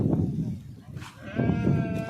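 Sheep bleat nearby in a livestock setting, one wavering bleat rising over a low murmur of background noise and faint voices.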